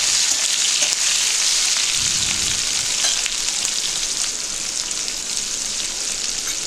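Chopped tomatoes fry with bay leaf in a pan, giving a loud, dense, crackling sizzle that holds steady throughout, with a short low scrape of stirring early on.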